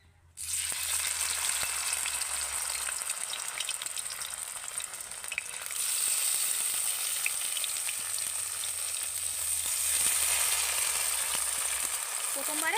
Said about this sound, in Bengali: তেল গরম হয়ে গেছে এবার আমি পুর ভরে রাখা চাল কুমড়ো পাতাগুলোকে দিয়ে দেবো